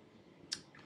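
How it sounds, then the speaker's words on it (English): A single sharp mouse click, a right-click made while working in the Visual Studio Code editor, sounds once faintly and close against a quiet room background. "if we want to put this in the watch window, we can do that by right-clicking on it."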